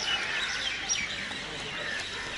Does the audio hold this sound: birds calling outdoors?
yes